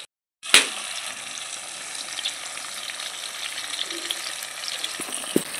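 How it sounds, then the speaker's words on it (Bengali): Spice paste soaked in water hits a hot pan for Bengali muri ghonto with gobindobhog rice, bursting into a loud sizzle that settles into steady frying hiss, with a couple of sharp clinks near the end. "তা আমি এখন মশলাটা দিয়ে দিচ্ছি।"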